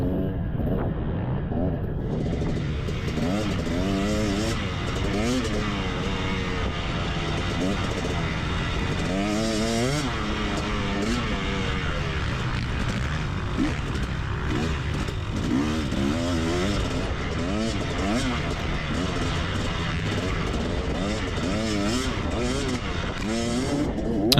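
Dirt bike engine during a cross-country race on a trail, droning loudly and steadily throughout with rising and falling revs as the rider shifts and accelerates, close up over rough riding noise.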